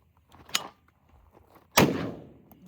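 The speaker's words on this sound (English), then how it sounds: "Let's give the Panzer one more shot." A Panzer shotgun firing one sharp, close blast with a long decaying tail, preceded by a smaller click or knock and quiet handling.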